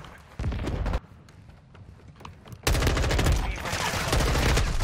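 Rapid automatic gunfire rattles in dense, loud bursts during Modern Warfare 2 beta multiplayer gameplay, with a short quieter gap between volleys and heavier sustained firing toward the end.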